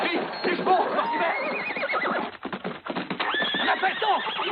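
Horses whinnying repeatedly while hooves clatter in a quick clip-clop, busy and close, with a few voices shouting over the commotion in a Western action film.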